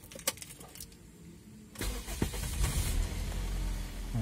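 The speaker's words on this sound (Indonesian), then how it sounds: "ini starter langsung pakai BBG" A Toyota Vios running on CNG gas fuel cranks and starts after a jangle of keys, its engine catching at close range and settling into a steady idle rumble.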